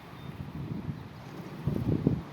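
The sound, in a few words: strong wind blowing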